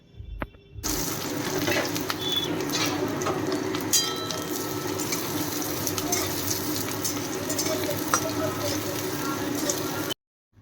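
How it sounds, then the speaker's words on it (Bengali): Chopped onions and green chillies frying in mustard oil for egg curry, a steady close sizzle with occasional stirring clinks and scrapes that runs unbroken until it cuts off near the end. "এবার আরও একটি সর্ষের তেল দিয়ে পেঁয়াজ ও কাঁচা লঙ্কা কুচিগুলো খুব লাল লাল করে সুন্দর করে ভেজে নিতে হবে।"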